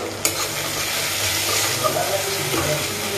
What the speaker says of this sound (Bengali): এখন ভালো করে মশলাগুলোকে ভেজে নেব